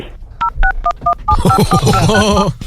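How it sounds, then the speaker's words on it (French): Telephone keypad DTMF tones on a phone call, a quick series of five dual-pitched beeps followed by a longer run of warbling tones, loud and close, heard alone without talk. "Est-ce que vous pourriez appuyer sur la touche 1 de votre téléphone s'il vous plaît pour qu'on récupère la tonalité?"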